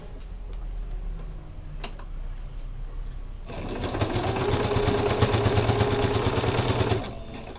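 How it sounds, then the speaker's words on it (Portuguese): Sewing machine stitching a fabric cover for a vaccination booklet and birth certificate, starting with a few faint ticks, then running in a steady, close, rapid rhythm for several seconds before stopping, with no talk. "E aí eu vou continuar a costura aqui."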